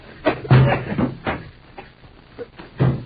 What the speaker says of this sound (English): You gotta break down that door.